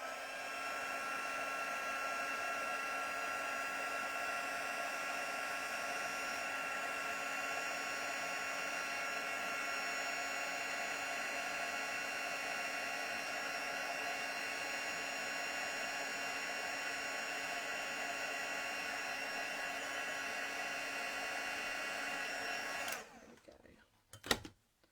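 A heat tool blows hot air over a die-cut paper card, a steady whining fan drone that runs unbroken for over twenty seconds before switching off with a brief clatter.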